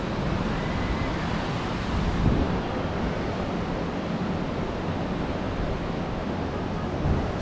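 Surf on a beach with turquoise water in Cartagena, Colombia forms a steady, broad wash of noise with gentle swells, mixed with wind buffeting, continuous and moderately loud without speech.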